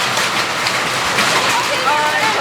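Hail pelts the surface of a lake during a storm, a dense steady hiss of countless impacts, loud and continuous, with a voice speaking over it.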